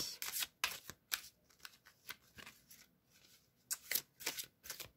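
A deck of cards is shuffled in repeated quick riffling bursts, crisp and close, separated by brief pauses, with no one talking.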